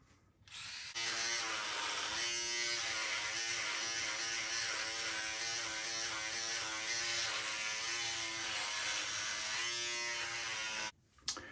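A Remington electric foil shaver, from the Ultimate Foil Series F9 XF9000 or XR1770 X7 Limitless line, buzzes close and steady for about ten seconds, with a faint ratcheting texture as it moves across stubble, then clicks off.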